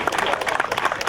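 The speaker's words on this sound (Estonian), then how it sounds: "Aplausi!" A crowd claps and applauds for a team at a cycling stage podium during a team time trial, a brief burst of dense, rapid clapping with voices mixed in.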